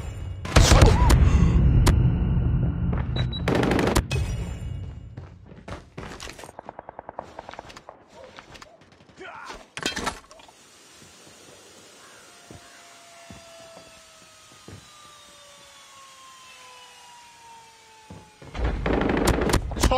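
A deployed sentry gun fires in a military shooter video game, with loud, dense bursts at the start, then scattered shots, thuds and whining tones through a quieter middle, and a final burst at the end.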